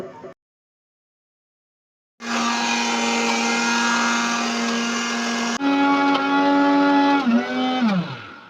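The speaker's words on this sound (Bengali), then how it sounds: "এই সব উপকরণগুলো একসাথে মিক্সিতে মিক্স হতে থাকলো" A kitchen mixer grinder loaded with peas, green chilli and ginger starts after a brief silence, whirring loudly and steadily, then shifts pitch and winds down at the end.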